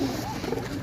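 Pigeons coo softly at close range in a loft of paired birds being sold, a short low warbling call set against steady background noise.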